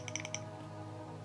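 Four quick light clicks from the DPI button of a Corsair Katar mouse, crisp and close in a fast little cluster before quiet.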